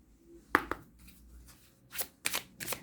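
Oracle cards are shuffled and handled for a tarot-style pyramid reading, with a few soft riffling bursts and sharp card slaps close by in a quiet room and no talk.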